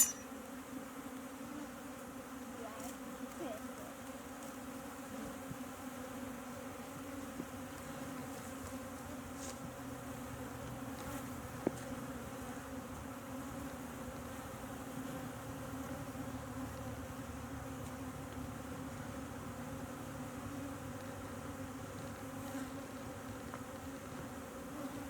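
Bees drone around a beehive being fed sugar water, a low steady buzz that hums on for the whole stretch, moderately faint with individual insects passing close now and then and no speech.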